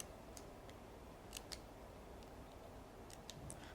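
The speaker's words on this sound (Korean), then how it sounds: "이 모서리도 또 아까 마찬가지로 잘라주세요" Scissors snip through a cardboard toilet paper roll, a series of quiet, sharp cuts spaced irregularly, faint and close, with no voices.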